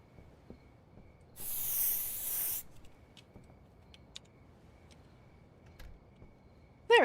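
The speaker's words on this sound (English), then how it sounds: "I'm just gonna get arrested for spray painting my own door." In the video game Schedule I, a spray can hisses in a single sustained burst of about a second while a door is painted, set against a quiet background of faint clicks and taps, with a sharp tone at the very end.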